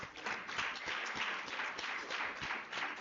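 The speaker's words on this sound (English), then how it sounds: "let's clap for ourselves for our attention" A seminar audience applauds for a few seconds, the clapping steady and dense, heard from within a hall.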